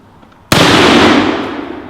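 A single sharp gunshot from a century-old gun fired at a bowling pin cracks loud and close, its roar decaying over about a second and a half, with no talk.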